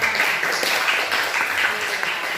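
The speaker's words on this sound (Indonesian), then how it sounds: "Oke, tepuk tangan." Students clapping in a seventh-grade classroom, a short, fairly loud patter of many hands that stays even and fades slightly, with some voices mixed in.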